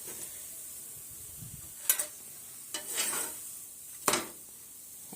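Thalipeeth flatbread roasting on a pan, a soft steady hiss broken by three or four brief scraping, clinking strokes of a spatula against the pan.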